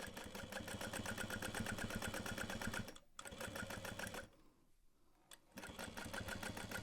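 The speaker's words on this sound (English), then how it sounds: "I'm going to fold that in half and top stitch just the edge I'm folding" A sewing machine top stitches the folded edge of a tote bag, a fast, even mechanical chatter that stops briefly twice, then resumes, close and moderately quiet with no talk.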